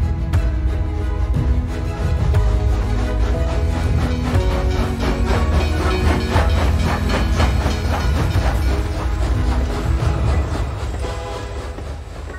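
Train rolling along rails with a continuous rumbling clatter and repeated clickety-clack beats, steady and loud throughout, easing slightly near the end, with no voices.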